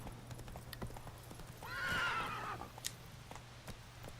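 Horse in The Witcher 3 letting out one clear whinny in the middle while hooves clip-clop steadily at a moderate distance, with quiet ambience behind.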